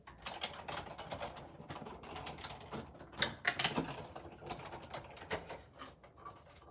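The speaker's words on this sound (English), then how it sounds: "I'm just cutting this out on my Big Shot" Big Shot die-cutting machine cranking paper through its plates, a run of rapid ratcheting clicks and gear rattles, close and moderately loud, with a denser burst of sharper clacks midway.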